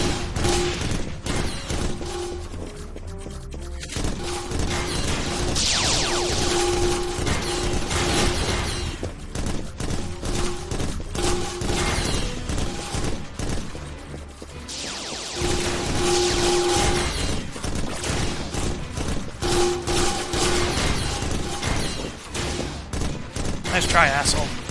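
Rapid in-game gunfire from Dyna Marisa 3D, a first-person shooter, rattles in dense continuous bursts with booming impacts, layered over game music and a player's voice talking.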